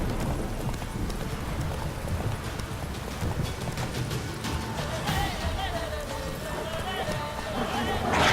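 Geralt's horse Roach gallops in the video game The Witcher 3, its hooves drumming in a fast steady clip-clop alongside a steady rustle of wind and ambient game sound, with a voice speaking over it.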